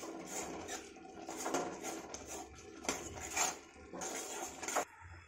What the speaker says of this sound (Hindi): तो हम इसे स्पून से ही मेल्ट कर लेते हैं।